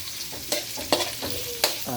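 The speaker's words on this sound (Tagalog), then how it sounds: "Gisa lang natin mga strong" Ginger, garlic and onion sautéing in a pan for tinulang manok, a close sizzle broken by quick stirring scrapes and spatula taps.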